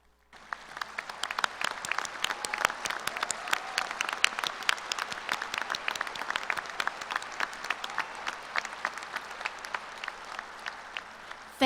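Standing crowd at a university graduate school commencement applauding mentors, long sustained applause with many distinct claps, steady and somewhat distant in a large hall.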